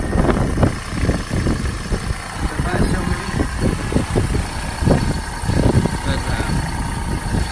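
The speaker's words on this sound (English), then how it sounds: "Running pretty slick. Not making any extra rattles." A Hummer H3 engine with over 200,000 miles runs steadily at idle after an alternator replacement, a continuous close mechanical hum with faint ticking, no extra rattles and no talking.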